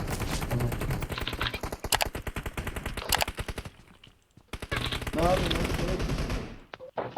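Rapid automatic gunfire from the mobile battle royale game PUBG Mobile rattles in fast, loud bursts with a short pause before another volley, while a voice talks over parts of it.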